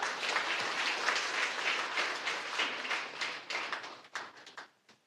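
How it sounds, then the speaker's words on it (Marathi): Sustained audience applause at an award ceremony for public service honours, steady dense clapping filling the room before tapering off into scattered final claps. "आपण त्यांच्यासाठी टाळ्या वाजूया."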